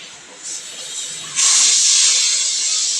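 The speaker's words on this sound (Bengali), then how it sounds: "ওদিকে আমার প্রেসার কুকারে সিটিটাও করতে শুরু করে দিয়েছে" A pressure cooker whistle vents steam in a kitchen: a thin hiss starts softly, then surges into a loud, sustained high-pitched jet of escaping steam.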